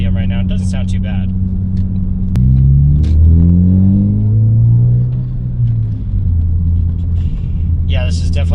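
Steady low exhaust drone from a Ford Focus ST with an aftermarket catback exhaust, cruising at about 2800 RPM: a smooth, loud, continuous rumble with a slight rise and fall, while a person talks briefly at the start and end.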